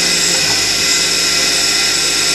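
A Chester DB10 lathe drills a hole to be tapped at 6mm, giving a loud, steady whining drone without pause and with no talking.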